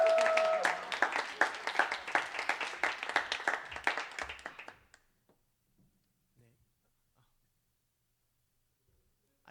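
A church congregation claps to welcome a pastor, a lively burst of applause lasting about five seconds before stopping abruptly, followed by near silence with a few faint shuffles.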